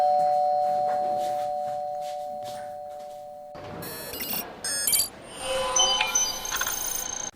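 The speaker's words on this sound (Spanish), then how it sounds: "Suena el timbre." Doorbell chime rings near a third-floor stairway in Japan, a short electronic melody of several bright sustained tones over a background hum, loud and clear.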